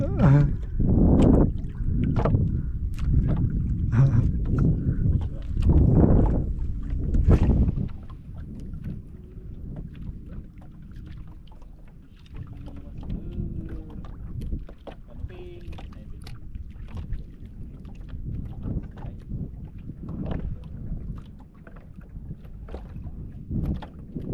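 Water sloshes and splashes around a small fishing boat off a Philippine shore, with wind buffeting the microphone and loud bursts early on before a steadier wash of water noise.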